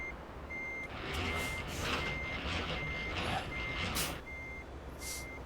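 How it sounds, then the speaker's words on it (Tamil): Electric truck in Euro Truck Simulator 2 sounds a steady series of evenly spaced reversing beeps over a low engine hum, with brief hissy bursts between them and no talking. "பார்த்தீங்களா வண்டி சவுண்டு பார்த்தீங்களா?"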